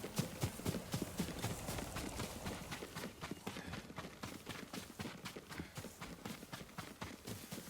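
Steady rapid hoofbeats clop along in a continuous rhythm, a horse moving at a brisk pace in the PS5 game Ghost of Tsushima, moderately loud with no talking.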